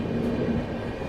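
A train runs along the rails near Prayagraj Junction, a steady low rumble with a humming tone, heard from on board and without a break across the short stretch, with no talking.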